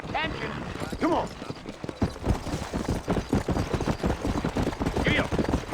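Horse hooves clip-clopping in a steady rhythm in Red Dead Redemption, set in New Ulster, running under ongoing talk between characters.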